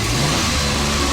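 A car engine self-starts after its battery has been charged without jumper cables or a charger, heard as a close, loud mid-range engine hum that revs slightly over a steady low rumble.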